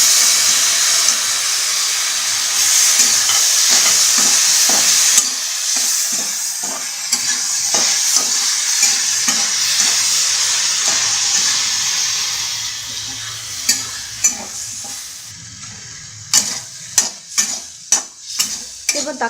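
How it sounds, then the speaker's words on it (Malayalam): Tomatoes and green chillies sauté in a hot pan for chicken curry, a steady loud sizzle with repeated scraping stir strokes that grow sharper and more spaced toward the end. "ഇതിലേക്ക് നമുക്കിനി തക്കാളിയും പച്ചമുളകും ഇട്ട് കൊടുക്കാം. ഇതെല്ലാം കൂടി നല്ലവണ്ണം ഒന്ന് വഴറ്റിയെടുക്കാം."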